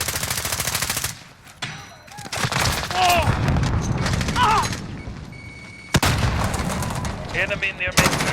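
Heavy automatic gunfire in Call of Duty: Modern Warfare 2 on the Killhouse map, loud sustained bursts with a sharp pause and sudden resumption, mixed with game voice callouts and explosive booms.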